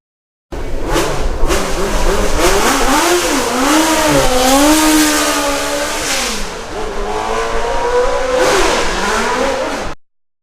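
An early-variant Ford Cosworth DFV V8 Formula 1 engine revs hard and loud, its pitch sweeping up and down through repeated rises and falls, with gear changes, heard alone and close.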